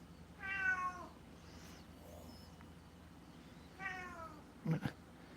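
A cat meows twice, a drawn-out call near the start and a shorter one a few seconds later, over a quiet room hum, with a brief knock near the end.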